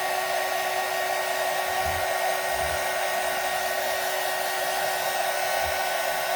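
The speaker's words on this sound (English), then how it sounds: "I just want to hit this real quick with the dryer." A hair dryer blows steadily and loudly on a candle made from a paper towel roll, a constant close whooshing hum that holds unchanged throughout, with a few faint low bumps beneath it.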